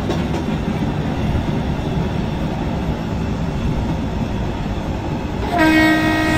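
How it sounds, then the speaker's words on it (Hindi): In the Indian Train Simulator game, a Kalka Mail train rolls along on a night journey with a steady, loud rumble, then a sustained horn blast sounds near the end and rises over the running noise. "हॉर्न वगैरह दे देते हैं ताकि स्टेशन पे अगर कोई ट्रेन या कुछ लग रखा हो वहां पे तो क्लियर कर दे पहले से ही"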